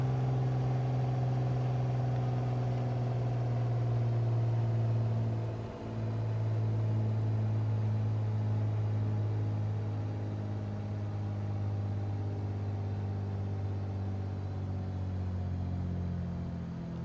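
A simulated light aircraft engine idles at 1000 RPM in a flight simulator game, giving a steady, droning low hum with a brief dip in the middle, no voices present.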